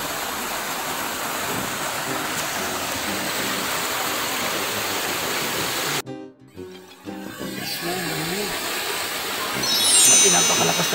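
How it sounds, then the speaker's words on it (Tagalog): Loud, steady rush of a fast-flowing mountain river in Malatap, Labo, fills most of the clip, briefly cutting out before returning with a faint voice. "Napakalakas ng tubig dyan."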